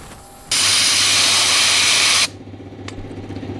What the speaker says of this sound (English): Now while I'm blasting, the media is dropping down